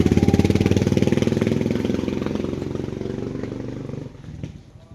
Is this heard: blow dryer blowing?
no